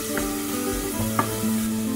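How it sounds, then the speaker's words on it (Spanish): Onion browning in a pan gives a continuous close sizzle, with a couple of light spatula taps and stirs over two seconds and no voices. "Vamos a dorar bien, bien, bien la cebollita."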